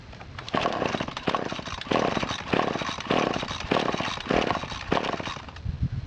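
A handheld small-engine garden tool, choke on, revs in loud repeated bursts that rise and dip roughly every half second, running rough and near for several seconds without talk.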